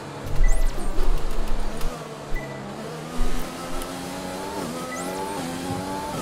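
F1 racing car engine in the video game F1 2020, a high-pitched revving whine rising and falling through gear changes on a lap, with bumpy thuds early on.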